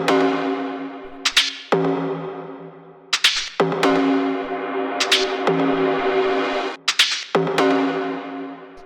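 Layered synth stabs from an electronic dance track hit in a repeating pattern, each bright chord burst followed by a sustained decaying tone, loud and dense with no voices.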